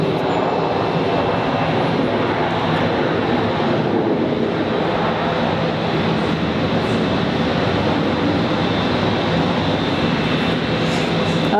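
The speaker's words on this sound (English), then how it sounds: "This is a Qantas E190, which is operated by Alliance as well." A Qantas Embraer E190 airliner arriving at Brisbane Airport, its engines a steady, loud broadband roar filling the whole stretch without letup.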